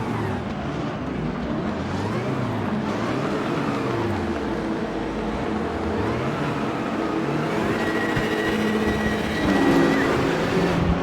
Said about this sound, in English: Brands Hatch GT3 cars, Timo Glock GT3 car by the looks of it